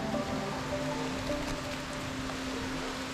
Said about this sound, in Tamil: மழை திருப்பியும் ஸ்டார்ட் ஆயிடுச்சு மக்களே.